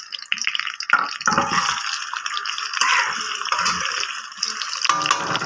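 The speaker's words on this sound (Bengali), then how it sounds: "তেলটা গরম হয়ে গেছে, এবার আমি আলুগুলো দিয়ে দিচ্ছি।" Potato pieces dropped into hot oil in a home kitchen while cooking meat curry, giving a loud, continuous bubbling sizzle with crackling spatter that starts abruptly and stays steady throughout, with no talking.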